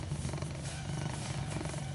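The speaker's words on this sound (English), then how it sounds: "They both have enormous purrs. You can hear Frankie." A steady, low rumbling purr from a Siamese cat, continuous and close, with no pauses or other sounds over it.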